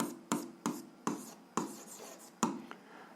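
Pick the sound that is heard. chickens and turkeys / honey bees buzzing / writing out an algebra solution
writing out an algebra solution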